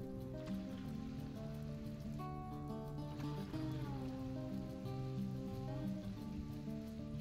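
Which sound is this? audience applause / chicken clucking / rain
rain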